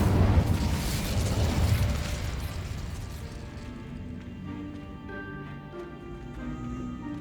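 Incendio fire spell cast in Hogwarts Legacy: a loud whooshing burst of flame that roars for about two seconds, then fades into a lingering crackle and a soft sustained magical shimmer.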